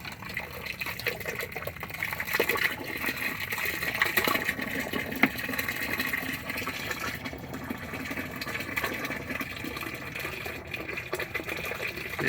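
Sandy gray water from a Bighorn RV gray tank, drained while clearing a blockage, gushes out in a steady, continuous rush that lasts throughout with no talk.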